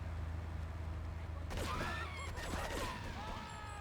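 Gunfire in GTA III, a short burst of shots and impact cracks arriving midway after a steady low ambient hum, with tonal game sounds ringing on afterward at moderate level.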